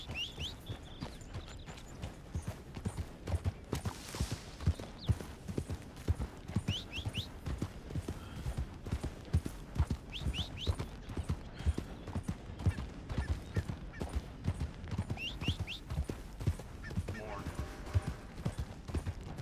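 Horse hooves clip-clop steadily in a video game, a rapid rhythmic patter running throughout alongside occasional whinnies, with a voice talking over the sounds.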